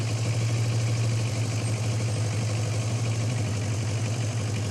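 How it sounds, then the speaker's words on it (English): A Versys 650 motorcycle engine idles steadily at close range after an oil change, a low, even throbbing hum with no revving. "Let me start the bike."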